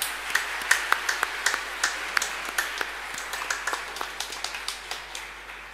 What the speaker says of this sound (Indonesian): Mari kita beri tepuk tangan untuk mereka.